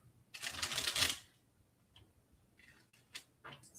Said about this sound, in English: Let me get a good shuffle.